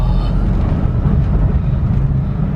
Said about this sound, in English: I forgot how loud this car is